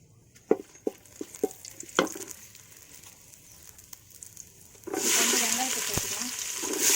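Bay leaves, cardamom and other whole spices drop into hot oil in a pan for paneer biryani. A few light taps and clinks come first, then a loud, steady sizzle sets in and continues strongly to the end.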